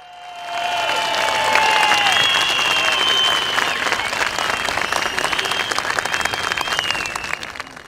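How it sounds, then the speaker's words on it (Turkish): Loud crowd applause at an outdoor CHP political rally in Şişli, with cheering voices rising over sustained clapping, building quickly and holding strong for several seconds before thinning slightly. "Genel Başkanım Hikmet Çetin'e bir kuvvetli destek alkışı"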